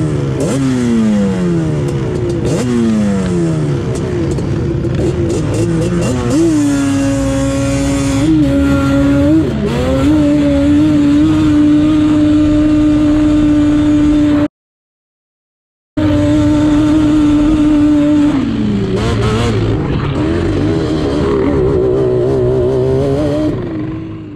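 Dune vehicles launching side by side in a drag race at the Glamis sand dunes, engines revving hard and climbing through gear shifts in a continuous loud roar, with a brief cut to silence midway before more racing engine noise.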